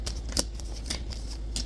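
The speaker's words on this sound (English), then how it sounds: "I guess I had to shuffle my cards because what I just read, I don't even see anymore." Tarot cards being shuffled by hand, a few quick papery riffles and flicks in irregular bursts, close and soft with no voices.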